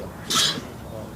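A single short sneeze bursts out briefly amid quiet background voices during commentary at a one-wall handball match.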